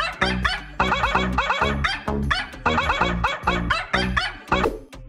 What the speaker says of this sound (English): Nice, it's Gabe the dog.